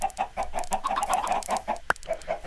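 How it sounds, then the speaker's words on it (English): Video game chickens cluck in a quick, busy stream of short calls close by, broken once near the end by a single sharp click before the clucking resumes. "I need to lead them chickens back out if they get loose"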